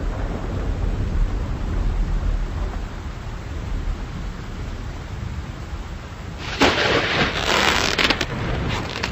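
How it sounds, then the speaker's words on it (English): A nighttime thunderstorm over a forest: a steady, loud wash of rain and wind, then a sudden burst of crashing thunder near the end that rolls on for a couple of seconds. "At night, there is a big storm."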